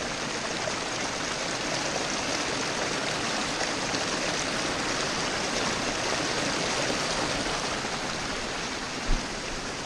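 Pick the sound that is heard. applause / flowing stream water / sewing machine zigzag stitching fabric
flowing stream water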